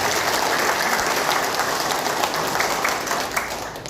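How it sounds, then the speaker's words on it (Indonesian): A crowd claps for KWK at a formal gathering, producing steady, dense applause heard close and fairly loud, tapering slightly toward the close. "Tepuk tangan buat KWK."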